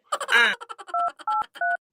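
A quick run of short telephone keypad tones, then three longer dialing beeps spaced evenly apart, clear and close.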